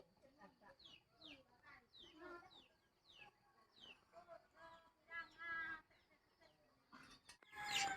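Chickens and ducks cluck repeatedly in short bursts, fairly close, with a higher squawk or crow rising near the end over quiet morning background.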